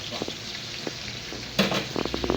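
Vegetable soup ingredients fry in a pan on a butane stove, giving a steady hissing sizzle with bursts of stirring and scraping close by.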